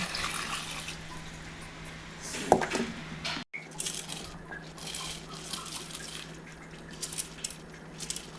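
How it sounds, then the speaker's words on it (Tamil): Water is poured into a pot of gongura chicken biryani, a soft continuous trickle and splash up close, with a brief clink of the vessel partway through. "தண்ணி ஊற்றிக்குவோம்."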